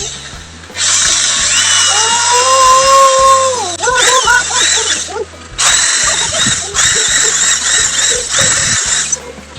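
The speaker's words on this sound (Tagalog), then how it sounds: "Nagamit po ako ng barena at saka ito." Power drill spinning against a PVC part to clean it for a homemade marble gun, a loud whining squeal in two long bursts with a short gap, pitch sliding and wobbling as the bit loads up, rumble underneath.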